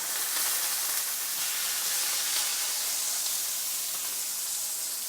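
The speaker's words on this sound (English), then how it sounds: "Just let that sizzle for a few minutes" Sliced onions and hing sizzle steadily in a pan, a dense, even hiss that stays loud and unbroken with no talking.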